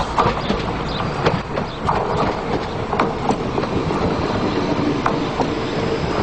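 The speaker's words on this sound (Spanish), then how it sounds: "Renfe se prepara para hacer frente a esta tendencia en el futuro con los nuevos Civia, que ya ruedan por las cercanías de las capitales españolas" A Renfe Civia commuter train runs on Spanish suburban rail lines, with steady rolling rumble and repeated rhythmic clacks of wheels over rail joints, moderately loud throughout.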